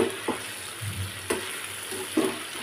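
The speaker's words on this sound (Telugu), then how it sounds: "హై ఫ్లేమ్లో వేయించుకోవాలండి ఫస్ట్ 5 minutes." Chicken frying on high flame, a dense, steady sizzle close up, with a few brief stirring scrapes and clatters at intervals.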